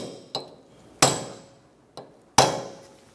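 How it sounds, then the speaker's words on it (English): A hammer strikes a punch to stake the axle nut on a 2012-2020 Chevrolet Sonic CV axle, four sharp metallic blows at uneven intervals, close and clear with no talking. "Remove your punch, stake the axle nut,"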